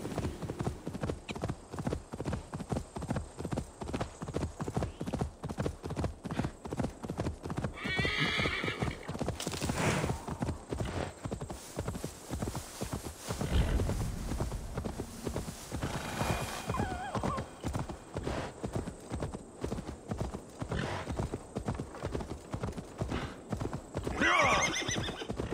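Galloping horse in Assassin's Creed Valhalla, hooves drumming in a fast steady rhythm for the whole stretch, broken by several loud neighs and whinnies, close and prominent with no talk.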